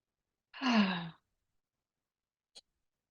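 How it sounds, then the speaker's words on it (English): A single slow, deep breath taken intentionally during a guided meditation, a soft voiced exhale lasting about half a second, followed by quiet and a faint short click, no talk. "And let's take some breaths intentionally."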